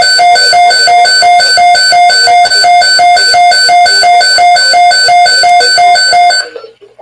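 NOAA Weather Radio emergency alert tone sounding loud and alone as a rapid run of identical electronic beeps, repeating evenly for about six seconds before stopping abruptly.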